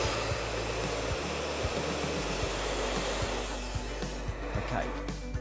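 A hand-held hair dryer runs steadily up close through a salon blow dry started at the crown, a continuous loud blowing roar with slight wavering as it moves over the hair.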